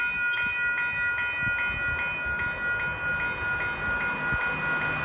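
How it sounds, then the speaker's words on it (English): An Edmonton Capital Line LRT train approaches a level crossing near 121 Avenue between Coliseum and Belvedere stations, its steady rumble accompanied by the regular high dinging of the crossing bells, with no one talking. "There's a train coming all the way from Coliseum right now."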